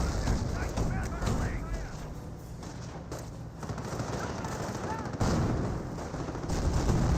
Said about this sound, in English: Mortar does connect right there.